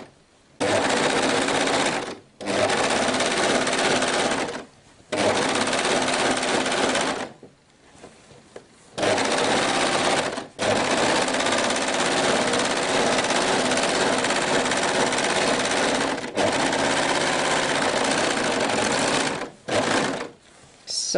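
A sewing machine edges the front of a hoodie through a single layer of fabric. It stitches close and loud in steady runs, broken by short pauses, with no talk.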